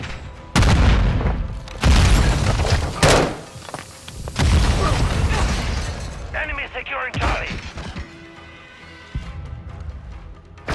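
Flashbang going off during a Call of Duty: Modern Warfare II Domination match, loud booming bursts and slams in busy game combat, with voices talking over parts of it.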